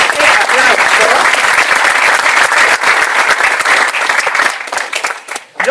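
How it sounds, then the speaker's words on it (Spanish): Strong audience applause at a book launch on financial tools for the art market, loud and sustained from many hands, easing off near the end with faint crowd murmur beneath. "Un fuerte aplauso."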